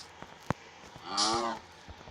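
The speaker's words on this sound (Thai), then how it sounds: "ตอนนี้วัวเยอะวัดเตอร์เฮก นู่นไง วัวเต็มหมดเลย" Cows mooing in the Minecraft video game: one drawn-out, wavering bovine moo rises clearly near the middle over a quiet background, with a few soft clicks before it.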